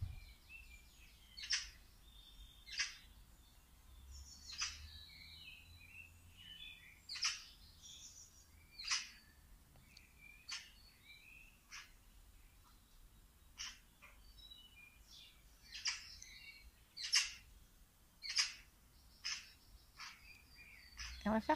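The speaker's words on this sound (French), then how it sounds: "J'ai un magnifique oiseau dans mon jardin qui est en train de faire tout ce bruit." A bird sings in a garden, giving a steady run of sharp, high chirps about every second or so, fairly faint against a soft, low background hush.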